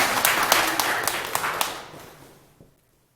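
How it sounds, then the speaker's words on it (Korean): Audience clapping in a lecture hall after a Buddhist monk's talk, a burst of many hands with quick sharp claps that thins out and fades to silence within about three seconds. "박수 한번 치시고"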